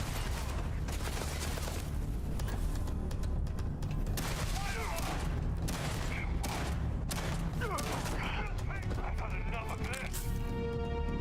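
A shotgun fires again and again during a charge in the video game Starfield, loud blasts mixed into dense combat noise and game sound throughout.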